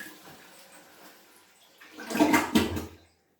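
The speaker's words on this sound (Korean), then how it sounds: "이 대야에 받으신 물을 변기에 부어줍니다" A basin of hot water is dumped all at once into a clogged toilet, a short rushing gush and splash after a quiet moment, then abrupt silence.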